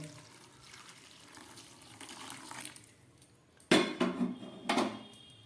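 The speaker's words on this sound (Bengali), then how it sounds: "এই বাটিটার মধ্যে আমি শুটকি মাছগুলোকে গরম জলে ভিজতে দেবো দিয়ে দিচ্ছি উষ্ণ গরম জল" Warm water poured into a bowl of dried fish, with soft pouring and faint clinks of the bowl, then two louder bursts of splashing near the end.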